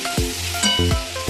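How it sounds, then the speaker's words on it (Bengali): Vegetables frying in a pan, with carrot, bori, eggplant, egg, ginger, green chili, tomato and panch phoron: a steady close sizzle broken by a few quick scraping stirs and clinks. "তোমার একটা সবজি রান্না বসিয়ে দিয়েছি"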